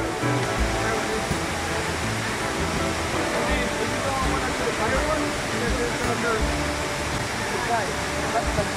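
River water rushing during tubing on a Central American river at Semuc Champey, a steady, moderately loud roar of flowing water continuing throughout, with voices talking over it.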